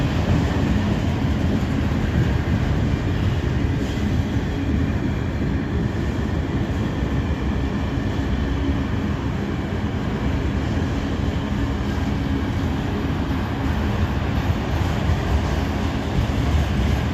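Freight train rolling through Abbeville, South Carolina, a steady dense rumble and clatter of railcars close by, continuous and loud throughout with no voices.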